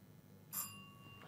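A quiz-contest bell rings once, a bright metallic ding with a short ringing tail that fades into quiet room tone during a school quiz competition.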